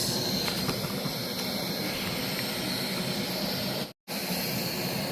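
A Kovea Moonwalker gas stove burns steadily with water coming to a boil, giving a loud, continuous roaring hiss up close that is briefly cut off near the end.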